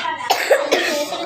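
A child coughs three times in quick succession at a hotel, close and fairly loud, each a short bursty hack.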